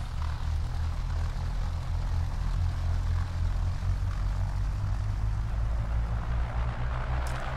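A propeller airplane in the X-Plane 10 flight simulator drones at a steady low pitch through its engine, loud and unchanging throughout the takeoff run, with no talk.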